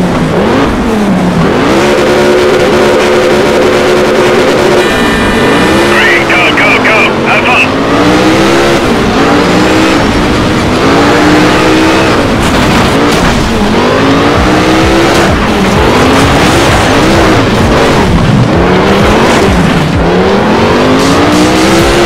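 Lexus LFA concept race car in Need for Speed Shift revving and accelerating loudly through a race, with engine pitch sweeping up and down and brief tire squeals, under a commentator's talk throughout.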